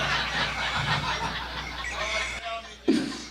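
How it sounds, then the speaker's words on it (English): A rooster crows once, loud and close, near the end, cutting in after a stretch of lively background chatter and noise at a birthday gathering. "The rooster says we're out of time."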